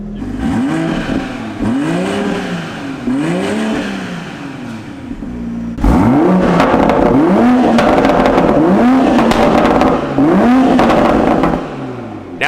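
A car engine on a stock tune is revved repeatedly, rising and falling in short sweeping pulls, first moderately loud and then louder and closer with sharper, busier revs, with a brief word of speech near the end.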